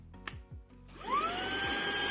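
A Proscenic P11 stick vacuum cleaner starts with a press and a couple of clicks, then its motor spins up with a rising whine into a steady loud whirring hum.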